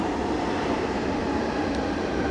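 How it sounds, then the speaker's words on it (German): A Munich U-Bahn subway train pulls into an underground station, a continuous loud rumbling roar that fills the platform. "Jetzt höre ich auch gerade, dass eine U-Bahn reinkommt."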